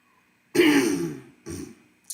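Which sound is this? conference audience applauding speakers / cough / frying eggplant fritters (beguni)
cough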